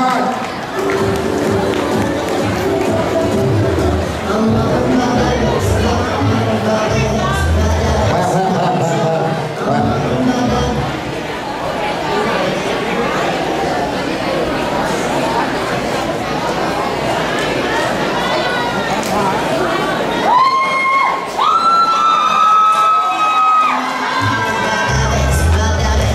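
Audience at a Tet New Year celebration cheering and applauding children's dance group, loud crowd noise with children shouting and clapping, then music beginning near the end.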